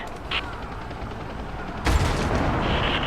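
Gunfire and heavy weapon blasts in the video game Rise of the Tomb Raider, a loud booming shot partway through over a dense ongoing rumble of battle noise.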